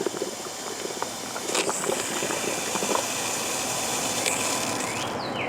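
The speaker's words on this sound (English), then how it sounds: "So I'm going to turn the water on, and all I do is turn this on and run it until" Water runs from a hose into a Rubbermaid tub being built as a self-watering container, a steady broadband splashing hiss that continues at an even level throughout, close by, with no talk.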